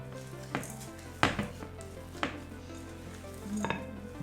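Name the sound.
mixing chocolate chips into low-carb cookie dough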